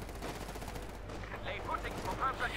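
Machine gun fire from Maxim guns in a Company of Heroes 2 match, a steady crackle of rapid shots running under battle noise and faint talk throughout.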